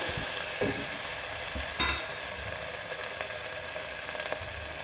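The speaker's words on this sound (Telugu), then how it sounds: "మనం ఇందులోకి వెజిటేబుల్స్ వేసుకోవాలి" Chopped carrots, beans and potato tipped into a hot pan of frying spice base for a restaurant-style mixed vegetable curry, a steady sizzle with a sharp clatter as they land and light stirring scrapes after.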